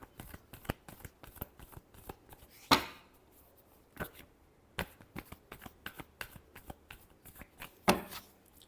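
Tarot cards are shuffled by hand in a steady run of crisp riffling snaps, with a few louder slaps as the deck is squared, close and alone without talk.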